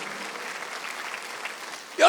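A church congregation at a Sunday worship service claps, a soft diffuse wash of applause heard from a distance in a large room, ending in a sudden louder burst at the close.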